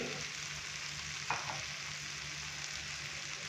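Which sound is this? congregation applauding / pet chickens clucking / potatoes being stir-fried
potatoes being stir-fried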